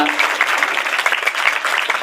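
Schoolchildren at a government primary school function clap loudly together, a dense, sustained burst of many hands applauding in a hall.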